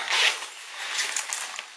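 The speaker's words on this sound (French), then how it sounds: "donc là il y a les deux doubles fermetures éclair pour qu'on puisse fermer en haut" A double zipper on a small bag with a little front pocket is pulled open or shut in one short rasping run, then a few softer ticking drags, close and fairly quiet.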